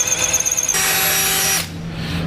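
Power drill boring through a couple of layers of frame metal with spot welds on a 2011 Honda CR-V, enlarging a bolt hole, a loud close whine that shifts in pitch as it cuts, then winds down.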